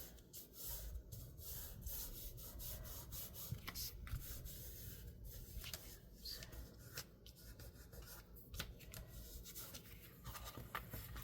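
A paper cover on a crayon box junk journal is smoothed down by hand, giving a continuous close rubbing and brushing sound with soft scuffs and small taps throughout, no voices.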